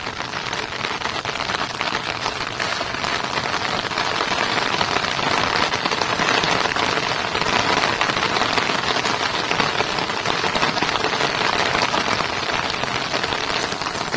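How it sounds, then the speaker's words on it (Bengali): Drizzling rain patters steadily on water and an umbrella outdoors, a dense, close, continuous hiss of drops with no talk over it. "জলে বৃষ্টির গুড়ি গুড়ি বিন্দু আপনারা দেখতে পাচ্ছেন, আর ছাতা থেকে আপনারা সেই আওয়াজটা পাচ্ছেন।"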